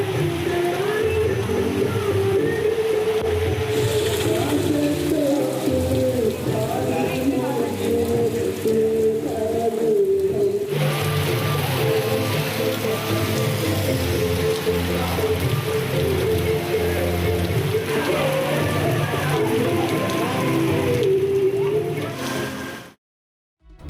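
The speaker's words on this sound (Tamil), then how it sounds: "பரமக்குடி, பார்த்திபனூர், தெளிசாத்தநல்லூர் மற்றும் கமுதக்குடி உள்ளிட்ட பகுதிகளில் மழை பெய்தது." Rain falls over Paramakudi, Parthibanur and nearby towns in a steady, loud patter with splashing water, continuous with a short dip midway before cutting off.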